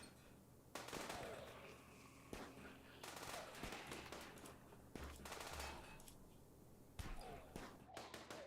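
Light SMG bursts fire in the video game RimWorld, quick sharp rattling volleys repeating every second or two, punchy and loud against a faint background of other combat sounds.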